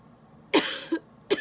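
Two or three coughs close by, set off by inhaling a natural dewormer powder, the first strong and the rest shorter and fainter, with quiet pauses between them.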